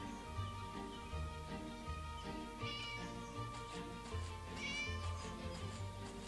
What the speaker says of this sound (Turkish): Abi kedi sesi buradan geliyor.